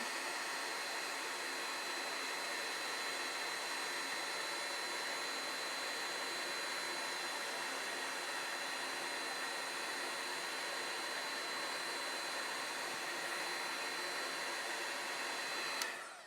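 A heat tool blows steadily for about sixteen seconds while melting embossing powder, a constant loud whirring hiss that cuts off abruptly at the end.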